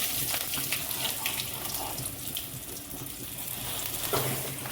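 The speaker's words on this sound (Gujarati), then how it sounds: "તો આપણે કહીશું વઘાર રાઈ જીરું અને મીઠો લીમડો" Mustard seeds, cumin and curry leaves tempering in hot oil give a steady, close crackling sizzle with small pops throughout, and no one speaks.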